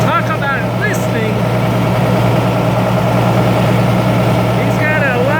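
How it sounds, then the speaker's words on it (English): A heavy truck engine idles loudly and steadily up close, with a deep low rumble that never lets up, and faint chirping sounds above it. "He's got a loud idling truck."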